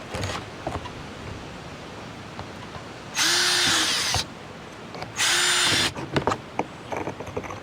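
Two separate bursts of a power drill whirring close and loud in an outdoor yard on a windy day, each about a second long, separated by light rustling and handling noise.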